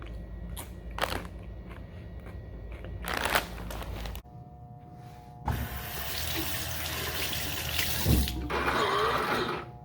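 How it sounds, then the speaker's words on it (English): Hands being washed under a running tap: a steady close rush of water into a sink, broken by splashing bursts as hands move through the stream, with no talking. "I sure am glad I have clean water to wash my hands."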